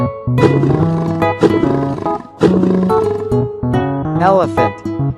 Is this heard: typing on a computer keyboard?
no